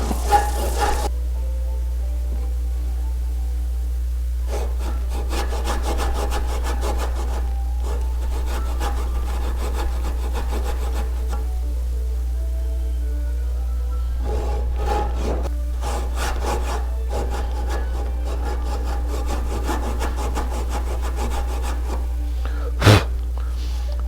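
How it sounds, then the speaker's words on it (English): A hand saw rasps through wood in repeated back-and-forth strokes, cutting saw marks for a carved foot on a reproduction tilt-top table, in bursts separated by pauses, close up with a low steady hum underneath. "we're sawing out the big toe here and making the saw marks 3/8 of an inch deep"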